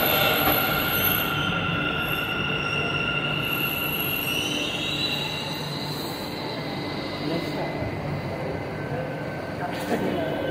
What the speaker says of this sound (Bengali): মেট্রো ট্রেন আর আছে মেট্রো ট্রেন আর আছে